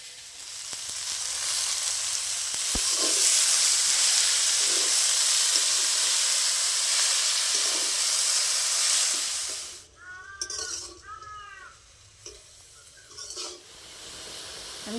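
Washed leafy greens hit hot oil in a pan of frying potato and eggplant, a loud steady sizzle that fades after about ten seconds into quieter crackles, light stirring clinks and scraping.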